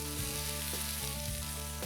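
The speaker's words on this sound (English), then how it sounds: "We want the sizzle. The sizzle is good." Red and green bell peppers and purple onions sizzle steadily in a hot pan, a close, even crackle with a few soft stirring scrapes.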